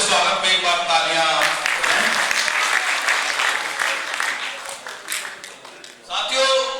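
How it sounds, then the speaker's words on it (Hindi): Audience applause welcoming a guest onto the stage at a public assembly in Ghaziabad, loud and continuous clapping from a crowd that thins briefly near the end before swelling again. "कृपया उनके स्वागत में एक बार तालियां।"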